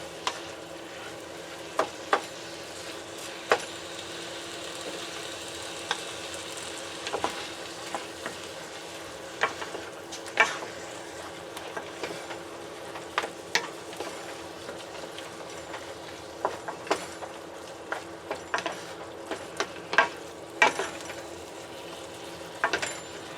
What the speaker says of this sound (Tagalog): Haluin natin ang ating giniling, saka sasangkutsahin muna natin ito.